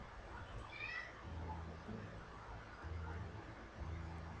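A cat meows a few times at a household distance, its cries rising briefly over a low background of game music and sound effects.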